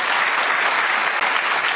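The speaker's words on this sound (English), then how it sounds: "Give her a round of applause" A loud, dense round of applause from a live BBC studio audience, steady and continuous with a brief dip midway, no voices above it.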